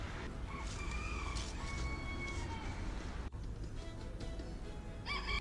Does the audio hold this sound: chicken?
yes